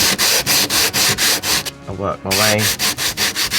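A sanding block rubs rhythmically back and forth over model railway scenery to knock down lumpy high spots, making loud, close scratchy strokes in a quick steady rhythm that pause briefly while someone speaks.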